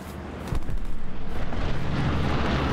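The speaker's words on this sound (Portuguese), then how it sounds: "Você viu um bombardeio?" Deep, rumbling booms roll in after a brief lull, a dense continuous barrage of distant artillery explosions in the World War II video game Hell Let Loose, with no voices.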